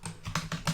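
Typing on a computer keyboard, a few close, crisp key clicks in quick, uneven succession with no talk.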